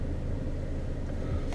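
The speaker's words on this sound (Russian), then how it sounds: "Итак, включаем задний ход." A 2016 Audi A4 shifts into reverse and backs up slowly, a steady low engine rumble filling the cabin without a break, with a faint rise at the very end.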